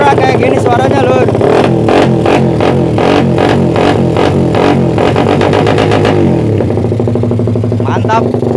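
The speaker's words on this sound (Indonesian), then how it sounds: "Motornya kayak gini suaranya lur." A Suzuki Satria FU drag motorcycle fitted with a 70 mm piston revs loudly and close, with rapid repeated throttle blips, then settles toward a rougher idle near the end. A voice talks over it.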